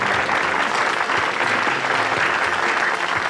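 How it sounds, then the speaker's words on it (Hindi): A studio audience at a televised Hindi entertainment show breaks into loud, dense applause that holds steady for several seconds, with no talking over it. "जोरदार तालियां।"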